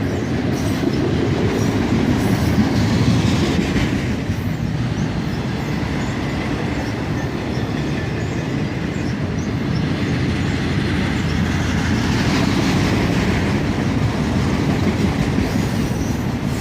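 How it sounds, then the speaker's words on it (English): A CSX autorack freight train rolls steadily past on the Toledo sub, loud and close, with continuous rumbling wheels, clickety-clack over rail joints and occasional wheel squeal throughout. "These autorack trains are a very common sight here on the Toledo sub."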